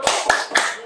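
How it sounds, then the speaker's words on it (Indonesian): A school class does a salute clap, three sharp, evenly spaced claps in quick succession, close and crisp. "dan kita berikan tepuk salut"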